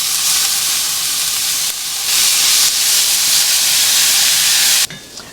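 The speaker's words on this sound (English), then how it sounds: "We're going to let this saute for about 5 minutes." Vegetables and garlic sauté in a skillet with a loud, steady hiss of sizzling that runs unbroken, then drops away abruptly near the end, leaving faint kitchen sounds.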